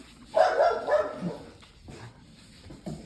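A dog barks close by indoors, a loud cluster of barks near the start fading into softer whines and short yips, with no talking.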